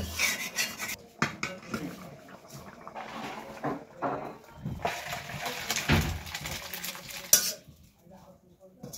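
Cooked potato, cauliflower and egg curry is ladled into a pot in a home kitchen, with irregular metallic scrapes, clinks and soft wet slops from utensil against cookware, fairly close and without talk.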